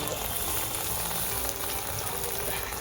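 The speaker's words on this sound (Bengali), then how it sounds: "এখন মশলা কষানো হচ্ছে" Spices frying in a pan, among them dried and green chillies, panch phoron, bay leaf, tomato, chilli powder and turmeric, give a steady, even sizzle that runs throughout with no voices.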